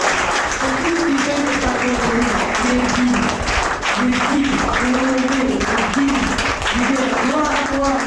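Loud, steady applause from a church congregation fills the space without a break, with sung or shouted voices rising over it at times.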